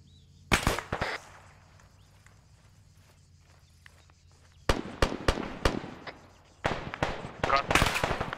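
Sniper rifle shots crack in Arma 3, sharp loud reports: a pair early, then a rapid cluster of several shots later, with gunfire mixed among other battle noise.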